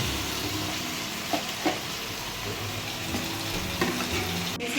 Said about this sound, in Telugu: టమాటాలు వేసుకొని బాగా ఫ్రై చేసుకోవాలండి